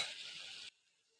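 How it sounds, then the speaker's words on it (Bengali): Hilsa fish and stems fry in a pan, a bright hiss of sizzling oil under stirring that cuts off abruptly after under a second, leaving near silence. "এবার আমি ভালো করে একটু নাড়াচাড়া দিয়ে নেব"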